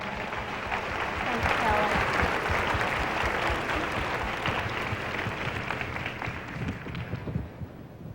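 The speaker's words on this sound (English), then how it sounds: "Let's give her a round of applause, everyone." Audience applause at the 1996 Miss America pageant preliminaries, a sustained broad wash of clapping from a large crowd that holds steady then tapers slightly, with a voice faintly underneath.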